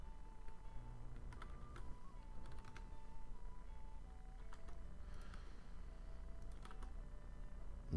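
Keys on a computer keyboard clack in short irregular bursts as a search word is typed, close and fairly quiet over a steady low background hum.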